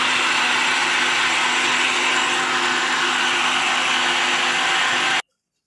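A kitchen blender runs loud and steady for about five seconds, whirring as it mixes ingredients together for a dough, then cuts off abruptly into silence.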